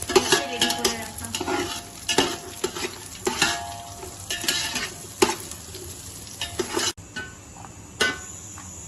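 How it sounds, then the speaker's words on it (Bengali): Cashews and raisins fry in ghee in a pan for a pulao, giving a steady close sizzle broken by repeated scraping stir strokes and light utensil clinks. No one speaks. "শিল্পী ভেজে নিচ্ছে কাজু আর কিশমিশটা ঘিতে"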